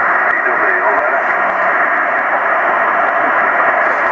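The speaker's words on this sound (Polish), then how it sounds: "Słuchajcie, coraz to większy szum." Radio static hisses loudly and steadily as a dense band of noise, with faint ticking crackles throughout and no clear signal coming through.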